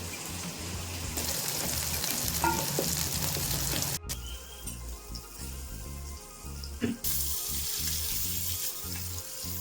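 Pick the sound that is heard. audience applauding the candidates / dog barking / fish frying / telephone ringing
fish frying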